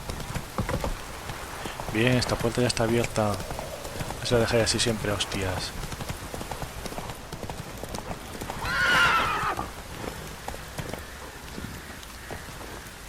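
A horse in the video game The Witcher 3, its hooves clip-clopping steadily while rain falls, with a clear neigh partway through; someone talks over it in the early part.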